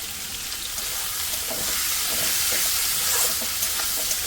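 Onions frying in a pan until golden brown give a steady, close sizzling hiss that runs the whole time, with a few faint clinks underneath.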